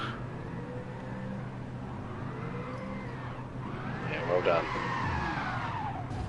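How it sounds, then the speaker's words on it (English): A Super2 race car at Interlagos revs and screeches its tyres through a burnout, engine notes rising and falling with rubber squeal, heard at a distance under continuous commentary. "Been to the Will Davison School of Burnouts there, I think."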